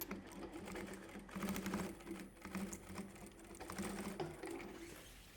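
Sewing machine stitching the gusset of a small fabric backpack, a steady rapid whirring stitch with brief pauses and restarts, fairly quiet and close.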